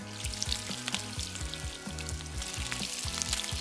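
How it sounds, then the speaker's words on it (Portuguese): Cauliflower and bacon croquettes deep fry in hot oil with a constant dense bubbling sizzle, close and steady, while a utensil clinks and stirs in a regular rhythm; no one speaks. "agora tá na hora de a gente fritar e ver o que que vai dar."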